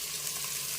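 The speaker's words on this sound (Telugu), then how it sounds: "గోల్డెన్ కలర్ వచ్చేంత వరకు బాగా ఫ్రై అవనిద్దాము" Sliced onions and green chillies frying in hot oil for mutton biryani make a steady, hissing sizzle, continuous and fairly soft throughout the brief moment.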